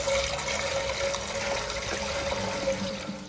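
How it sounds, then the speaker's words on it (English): Coolant drains from the heat exchanger of a 2011 Shelby GT500 with the cap removed, a steady close splashing flow that runs continuously without pause, with no voices. "While the heat exchanger continues to drip"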